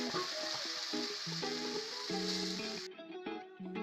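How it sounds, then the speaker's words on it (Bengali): A spice mixture thinned with water sizzles steadily in a pan of frying onions for a chilli chicken, a loud, continuous hiss layered with background music, and the sizzle cuts back partway through. "পেঁয়াজ ভাজার মধ্যে আমি মশলাটা ছেড়ে"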